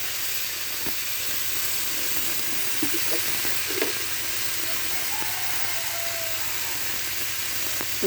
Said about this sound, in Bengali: এখন একটু জল দিলাম এজন্য চুলাটা জ্বলছে খুব ধরে উঠবে আম এজন্য এবার হালকা জালে ভাজতে হবে